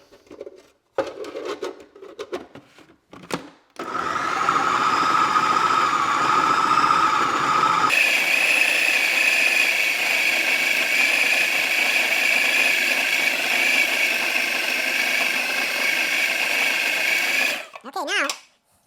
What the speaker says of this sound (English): here's our processor. The meat, garlic.